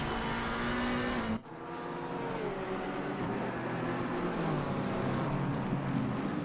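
GT3 race cars lapping Suzuka in a racing video game, engines droning loudly and continuously with shifting pitch as they run close in slipstream, a brief cut near the start, no talk.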